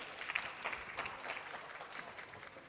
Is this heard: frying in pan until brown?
no